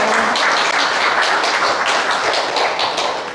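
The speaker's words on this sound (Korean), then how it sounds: "큰 박수로 한번" An audience at a dementia-care center lecture claps loudly to welcome a physician speaker, with brisk, close, dense applause throughout that tapers slightly at the end.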